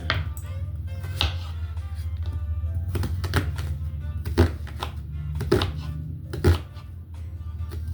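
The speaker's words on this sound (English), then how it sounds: "I'm cutting the yellow onion" A knife chopping a yellow onion on a cutting board, with irregular crisp thunks, some louder strikes and short quick runs, set over a low steady background hum.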